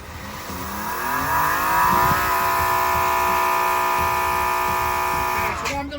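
A Greenworks Pro 2300 electric pressure washer spraying outdoors across a garden: a loud, continuous motor whine rising in pitch over the first two seconds and then holding steady before cutting off near the end.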